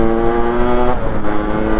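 A Yamaha RXZ two-stroke motorcycle revs hard after a downshift, its buzzing engine note loud and close, with strong harmonics that climb steadily before breaking into a rougher roar for the rest of the burst.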